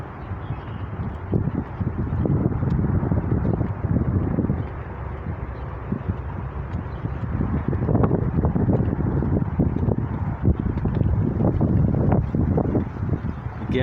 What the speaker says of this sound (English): quite a lot of breeze, a lot of wind today, so hope it's not messing up the video on the microphones for you